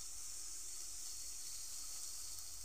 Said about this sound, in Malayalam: ഉള്ളിനെ നമുക്കൊന്ന് വതക്കിയെടുക്കാം